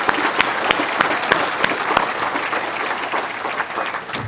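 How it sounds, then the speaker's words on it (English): Applause at a motorsports hall of fame ceremony, a dense, steady crowd clapping with a few sharp individual claps standing out, sustained evenly and fading slightly at the end. "Round of applause for Rex Garrett."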